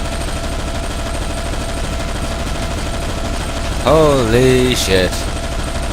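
A rapid-firing gun cutting down zombies in the Zombie Shooter 2 video game, a steady, loud stream of shots running throughout, with a man's excited exclamation breaking in near the end.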